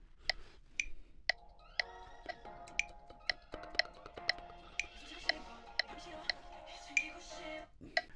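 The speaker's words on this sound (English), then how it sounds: "Let's try it with a metronome." A metronome clicks at a steady 60 beats per minute, sharp, evenly spaced ticks about one per second, sounding over sustained soft piano-like tones in the background.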